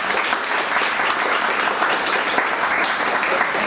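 Audience applause welcoming Javier at a literary talk, a steady dense wash of clapping from a full room that holds evenly for several seconds without any voices.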